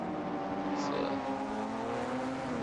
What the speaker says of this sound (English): The car zips by.